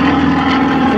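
Sukhoi Su-29 aerobatic aircraft, built in 1994, at an air show, its propeller engine a loud, steady droning roar close by, filling the whole short moment without any voices.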